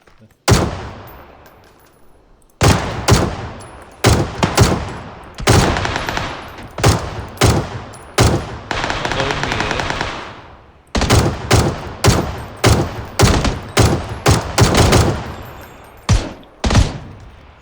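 Gunfire in PUBG: Battlegrounds comes as loud, sharp shots in quick bursts, spaced through the whole stretch with a brief pause in between.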